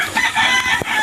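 A single close chicken call, a short throaty crow-like cry lasting about a second.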